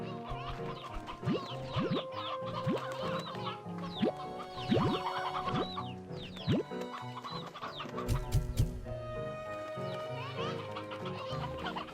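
A flock of chickens in Slime Rancher 2 keeps up a busy chorus of overlapping clucks and squawks at moderate volume, with no pauses, over the game's steady background ambience.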